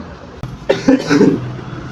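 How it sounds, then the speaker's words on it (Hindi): A single short, rough cough bursts out close by, followed by a brief throaty rasp. "और इनको बहुत खांसी आ रहा है, दुआ दो कि इसको खांसी ना आए।"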